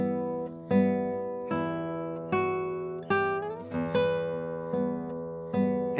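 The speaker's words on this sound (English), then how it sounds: "That's called a glissando or a slide more commonly." Classical guitar playing a glissando, a fretted note sliding smoothly in pitch midway through a sequence of plucked, ringing notes, heard close and solo with no talking.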